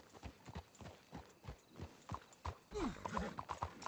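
Horse hooves clip-clop at a steady walking rhythm in the video game Red Dead Redemption 2, moderately close, with a brief whinny-like sweep partway through.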